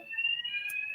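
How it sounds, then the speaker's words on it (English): A fire alarm rings inside a building as a steady, piercing electronic tone that holds unbroken through the moment, fairly loud and alone without talk. "There's a fire alarm."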